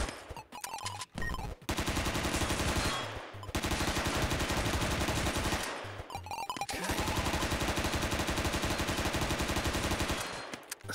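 Sustained heavy automatic gunfire in a video game, loud and dense. Long continuous bursts come in two main stretches, broken by brief pauses and a few sharp individual shots.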